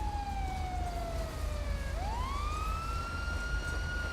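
A GTA 5 police car siren sounds loud and steady throughout. Its tone glides downward, then sweeps sharply back up and holds high, with no voices.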